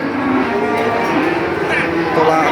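A cow lowing loudly at a busy cattle market in Nganjuk, a long sustained moo close by, with crowd murmur and other livestock noise filling the background.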